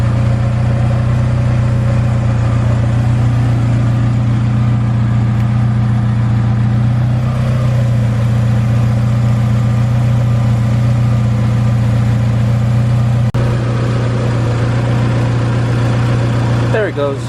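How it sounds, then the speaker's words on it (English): An all-wheel-drive Honda CRX engine runs at a steady, loud idle nearby, a constant low hum with slight shifts in tone over about seventeen seconds. "But I'm about to take this car for a drive right now."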